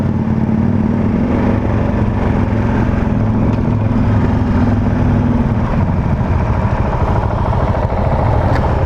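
A 2019 Husqvarna 701 Vitpilen motorcycle on the move, its engine a loud, steady, continuous drone with rumbling low end and road roar throughout, no voices.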